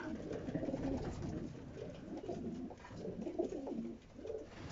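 Racing pigeons coo softly and continuously inside a loft, several birds murmuring together at low volume with no talk.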